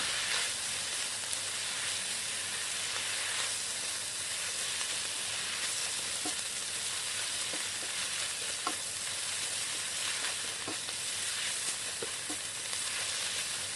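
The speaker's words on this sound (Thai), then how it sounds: "ใส่ใบกะเพราลงไป จากนั้นก็ผัดต่อค่ะ ขั้นตอนนี้เร าจะผัดไปเรื่อย ๆ ค่ะจนกว่าใบกะเพราจะสลดลงไปค่ะ" Holy basil leaves stir-fried with pork stomach in a hot pan, a continuous close sizzle with occasional scrapes and taps of the spatula, no talking.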